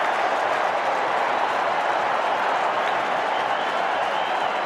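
West Coast Eagles home crowd at a 2005 AFL match against Carlton, roaring and cheering in a dense, sustained wash of noise with scattered clapping after a Carlton kick hits the post.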